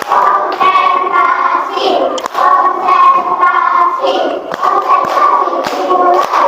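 Schoolchildren in a classroom clapping a patterned concentration rhythm during a fiqh lesson, loud, close, hand claps in repeated bursts mixed with children's voices chanting along.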